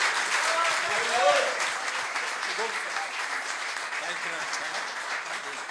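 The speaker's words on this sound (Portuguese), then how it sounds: "Quem crê, bate palmas." A church congregation claps steadily through a men's worship service in Santo Amaro, São Paulo, a dense wash of hands with a few voices calling out over it.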